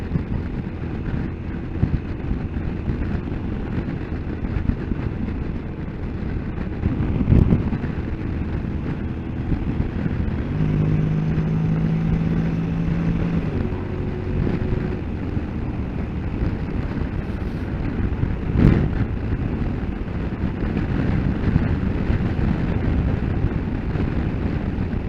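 Honda motorcycle ridden in manual mode on open road, engine drone steady beneath heavy wind buffeting on the microphone, with a couple of brief gust swells and a rising gear tone midway.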